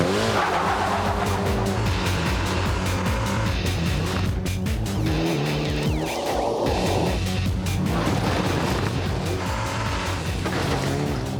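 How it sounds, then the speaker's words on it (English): Group N Mitsubishi Evo 7 rally car with permanent four-wheel drive, driven hard at close range, its engine roaring loud and steady while the tires squeal and skid, with no voices. "this is a Group N Mitsubishi Evo 7"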